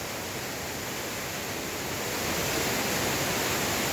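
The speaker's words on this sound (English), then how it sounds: "we're up here on the top of the waterfall, looking down." A 40 ft waterfall roars as a steady, broad rush heard from its top. The noise is loud and close and stays unbroken, with no voices.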